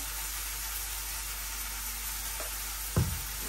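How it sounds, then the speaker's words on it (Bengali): Turmeric, chili and other spices sautéing with potato, onion, garlic and ginger in a home kitchen pan give a soft, even sizzle, broken near the end by a sharp knock of a utensil. "এখন মশলাটা দিব, হলুদ মরিচ যা যা লাগে এটা দিয়ে ভালোভাবে একটু কষাই নেই"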